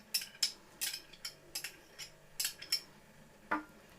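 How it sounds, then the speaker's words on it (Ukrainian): A utensil clinks and scrapes against a bowl in quick irregular strokes, close and fairly quiet, as a mixture is stirred. "Все перемішуємо."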